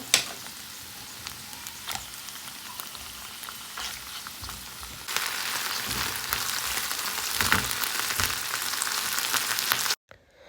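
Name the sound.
frying dried fish with onion, garlic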